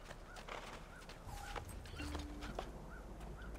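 Hoofbeats of a ridden horse clopping along in Assassin's Creed 2, an even run of repeated thuds over a low ambient bed, steady and moderately loud.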